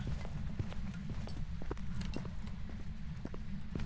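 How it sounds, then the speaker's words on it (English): Ghost footsteps in the horror game Phasmophobia, a steady run of soft thudding steps beneath a constant dense, rumbling hiss. "I can hear its footsteps outside of the"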